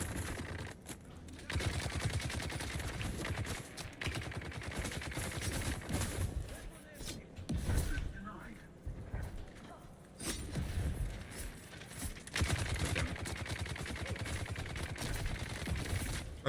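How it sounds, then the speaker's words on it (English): Sustained minigun fire in a Dune video game, a dense, continuous rattling barrage of rapid shots and impacts that is loud and steady throughout, with brief dips in intensity. "take a bunch of minigun bullets to the face"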